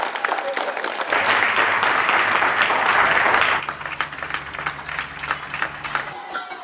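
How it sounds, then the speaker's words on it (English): Neighbours on doorsteps up and down the street clap for NHS workers, a dense roar of applause swelling for a few seconds, then thinning to scattered claps, with voices mixed in beneath. "when you open the doors all up and down the country, it's like just roars of claps"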